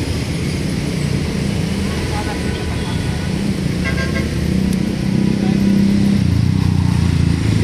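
Busy highway traffic near Manila Bay rolls past steadily: passing cars and motorcycles hum and swell, with short horn toots now and then, and voices talking over the road noise.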